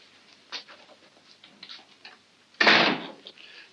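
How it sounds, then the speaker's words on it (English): A door swinging shut in a 1940s Sherlock Holmes mystery film, a single firm close after a stretch of faint shuffling and small knocks, fairly near and clear with no speech over it. "Go outside and close the door."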